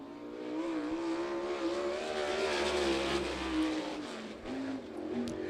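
A dirt-track race car makes a timed lap at Lincoln Speedway, its engine a loud, sustained drone that rises and falls in pitch as it circles. No voices are heard over it.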